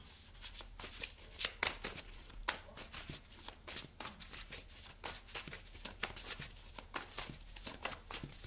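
Tarot cards being shuffled by hand for a card reading, close, crisp riffling and slapping in a repeated, uneven rhythm throughout, with no talking.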